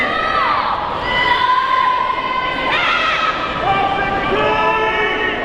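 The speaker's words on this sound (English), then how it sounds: "We've got an exciting crowd here." Lively audience at the Hura Tahiti 2017 Tahitian dance competition, a steady wash of cheering, whoops and high children's shouts filling the hall throughout, loud and continuous.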